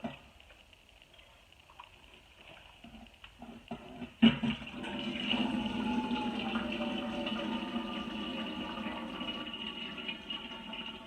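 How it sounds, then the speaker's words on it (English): Homemade onion broth being strained for pressure canning, a steady pour of liquid splashing through a strainer starting with a sudden clunk partway in, then a continuous close, moderately loud wash of flowing broth. "And that's what I'm going to get doing right now, is straining this, so we can can it up."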